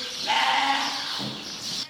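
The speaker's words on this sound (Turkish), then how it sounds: "Çok fazla kuzu koyun sesi var içeride" Lambs and sheep bleating inside a barn, a long wavering bleat followed by another overlapping call, fairly close and loud with no talking.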